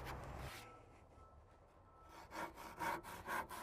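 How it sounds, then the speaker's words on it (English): A cheap handsaw cuts through a Hebel aerated concrete panel, with rough rasping strokes up close, a quieter lull, then a rhythmic run of about five quick back-and-forth strokes. "it's as easy as using a cheap handsaw. Cuts through the Hebel beautifully."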